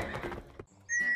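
Horses whinny at a farm on a morning, a short whinny at the start with clip-clop hooves, then a sustained high whistle-like neigh after a brief pause, loud and near with no talk.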